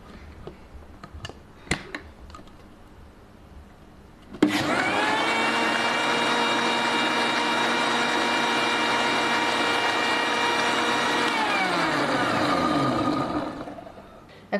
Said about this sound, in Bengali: এখন আমি ব্লেন্ড করে নিচ্ছি।